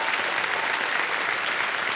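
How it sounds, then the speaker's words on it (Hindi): A studio audience at a Hindi quiz show, Kaun Banega Crorepati, claps steadily and loudly in dense, even applause that welcomes a contestant, filling the whole stretch with no voices on top. "तालियों के साथ इनका स्वागत करते हैं।"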